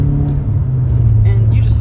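A 1999 Nissan Silvia S15 Spec R with a turbocharged SR20 engine accelerates, its loud, steady drone heard from inside the car and rising slightly in pitch as it pulls.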